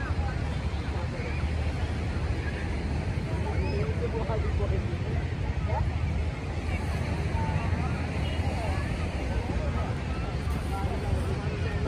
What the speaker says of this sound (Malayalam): കാറ്റടിക്കുന്നു